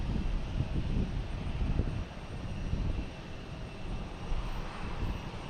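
A Delta Airbus A220 jet arriving at Boston Logan Airport, a broad steady engine roar with wind buffeting the microphone, fairly distant and continuous throughout.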